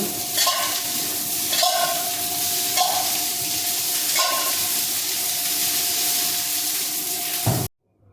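Oil sizzles and hisses in a hot pan while set dosa is cooked, a steady loud frying hiss with a few soft stirring scrapes, cutting off abruptly at the end.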